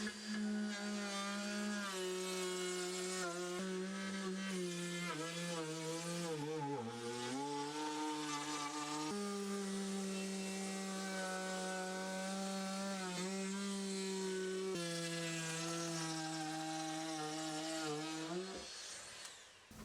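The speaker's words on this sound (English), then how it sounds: "I cut a little rebate for it with the router" A router cuts a rebate into 12mm plywood with a steady, loud motor whine throughout. The pitch sags briefly several times as the bit loads into the wood, and no one speaks.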